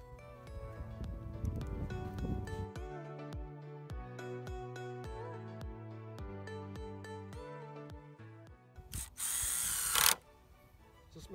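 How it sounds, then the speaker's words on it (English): A hammer drill drives screws into tight wood while building a farm fence, its motor whirring in a series of short rhythmic bursts, closing with a louder, harsher high-pitched run near the end, close and loud with no talk. "this is a hammer drill, so if you come across any really tight wood, it helps just drive the screw in"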